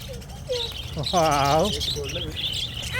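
Lovebirds at Saguna Baug give a cluster of bright, high chirps and twitters, with one louder, tonal call in the middle, heard close against faint background noise. A person is speaking nearby during the calls.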